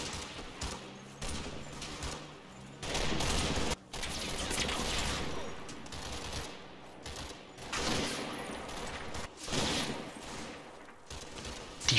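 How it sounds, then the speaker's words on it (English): Sustained gunfire from the Combat Mission video game during an assault on Grainville Chateau, Operation Epsom: dense rifle and machine-gun bursts with distant thumps, loud and continuous throughout with brief lulls. "Defensive fire increases as more SS enter the fray."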